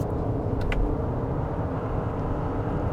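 A 2020 Toyota RAV4's engine drones steadily from inside the cabin during a paddle-shift downshift, a low, continuous road-and-engine rumble with a brief click near the start.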